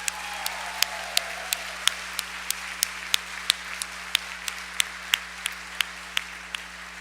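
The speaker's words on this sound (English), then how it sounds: "Please join me in a round of applause for them as well" A graduation ceremony audience applauds steadily in a hall, with a continuous low hum and a series of sharp, evenly spaced claps standing out above the wash of clapping.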